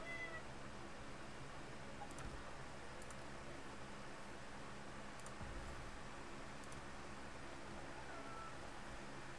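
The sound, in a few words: cat meowing noisily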